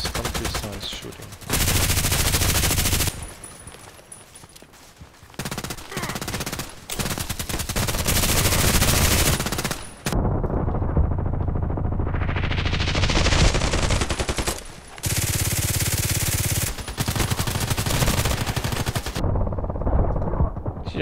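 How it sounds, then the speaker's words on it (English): An RPKT machine gun fires in the Contract Wars video game, with loud close sustained automatic bursts broken by short gaps, along with clicks and a rising whine, and no talking. "Not precise shooting. Imprecise, imprecise shooting."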